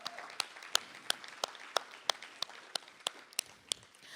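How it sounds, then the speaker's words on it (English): Clapping at a poetry festival rings out as sharp, evenly spaced claps at a steady pace, sounding like only a few people clapping in a quiet room. "Let's give them a round of applause."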